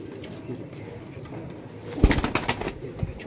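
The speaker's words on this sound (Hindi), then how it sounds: "एक नंबर कबूतर है ये।" Pigeons at a breeding farm in India coo, with a burst of soft, throaty calls rising suddenly over quiet background noise and continuing in uneven pulses to the end.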